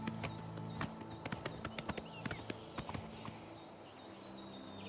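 Horse hooves clip-clopping in the Oblivion Remastered video game, a quiet, regular series of hoof taps at a walking pace over soft ambient game music, with no one talking.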